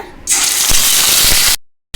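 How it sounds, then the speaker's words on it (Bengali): Onion paste hits hot oil with a sudden loud, bright sizzle that holds steady for over a second, then cuts out abruptly before a brief burst returns; no one speaks. "দিয়ে দিলাম তেল পেঁয়াজ বাটা"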